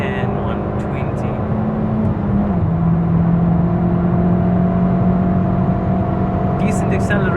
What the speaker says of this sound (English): Decent acceleration for a small car.